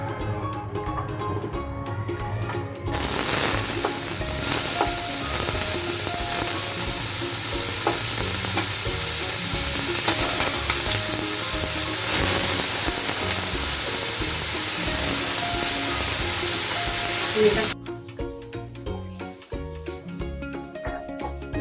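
Finely chopped onion frying in a pan, a loud, steady sizzle that starts suddenly and then cuts off to quieter background, with faint stirring throughout.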